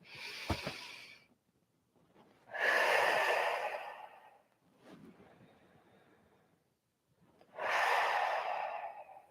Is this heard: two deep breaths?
yes